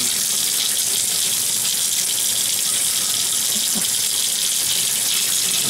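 Water runs steadily from a tap to bathe a newly hatched reptile, a continuous broadband splashing hiss that holds at an even level throughout, with no voices.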